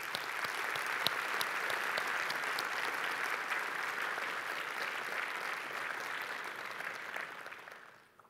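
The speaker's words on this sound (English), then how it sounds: "give a round of applause for all the open source maintainers" Sustained applause from a conference audience at a Vue.js developer conference, a dense even wash of many hands clapping for several seconds before fading out, moderately distant with no talk.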